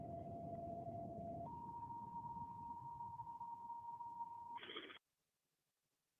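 Fire department dispatch tones over a radio: a steady tone steps up in pitch partway through, then a brief higher tone, then cuts to silence, all over a hissy radio background.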